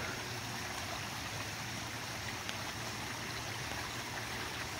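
Steady broadband rush of creek water flowing through a city, polluted with runoff from the streets, continuous and fairly close with no talk over it.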